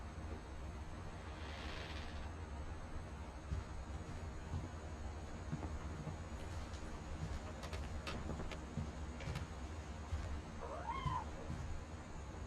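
A cat meows faintly a few times over steady background noise in the video game What Remains of Edith Finch, the calls brief and sparse.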